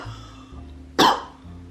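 A single close, abrupt cough from a person, one short burst over a quiet, steady background with no talking.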